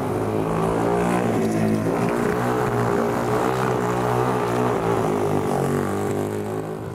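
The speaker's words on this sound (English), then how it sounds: "where I put the throttle on to make the bike react" A speedway motorcycle engine runs close and loud with the throttle held open, a dense, rasping, buzzing roar that stays steady for several seconds before easing slightly at the end.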